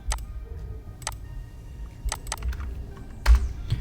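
Keystrokes on a computer keyboard as a programmer types a control name in C# code, a few quick separate taps and short bursts, close and fairly clear against a quiet room.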